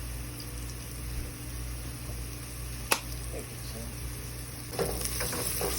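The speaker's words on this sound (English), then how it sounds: "Saute the onions until it's golden brown." Onions sautéing in a pan for a cheap, easy curry, a steady soft sizzle and frying hiss running throughout with a sharp clack near the middle and faint stirring.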